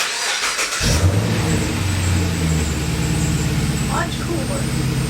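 A Chevrolet Caprice hot rod fires up with a sharp start and settles into a loud, rough engine note with revving, close by, while people talk over it.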